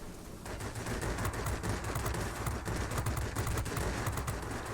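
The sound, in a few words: Yak-3 cannons firing in video game World of Warplanes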